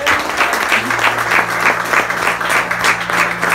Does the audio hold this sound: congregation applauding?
yes